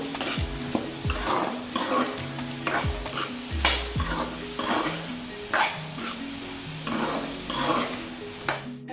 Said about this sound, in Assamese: তাৰপিছত এতিয়া অলপ আমি আকৌ ভালদৰে মিক্স কৰি ল'ম